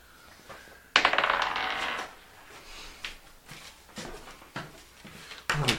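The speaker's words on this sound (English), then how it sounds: "I need you to roll a d20 plus your spell attack" Polyhedral d20 dice clatter across a tabletop during a tabletop roleplaying session, in a burst of sharp rattling clicks followed by scattered smaller taps and tumbles, heard close and alone without speech.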